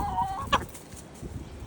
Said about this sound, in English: this is an Astrolorp, one of the first chickens I had